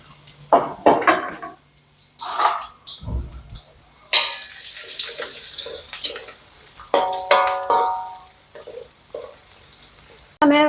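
Dried red chillies and garlic are dropped into hot oil in a pan while making a Kerala ambazhanga pickle, giving bursts of crackling sizzle with metal clinks and stirring scrapes between quieter gaps.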